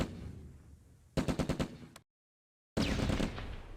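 Close Combat tanks fire on an MG42 machine gun squad: a rapid burst of about six sharp automatic shots, a sudden silent gap, then heavy gunfire resumes with rumbling tails.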